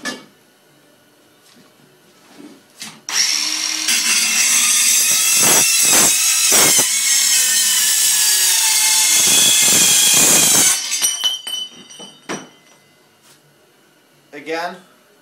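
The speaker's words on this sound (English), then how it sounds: "So let's go ahead and cut through a bigger piece of pipe." A Makita BCS550 18V cordless metal-cutting saw spins up and cuts through a larger piece of pipe with a loud, sustained high-pitched whine and grinding for about seven seconds, then winds down, with clunks and handling noise before and after.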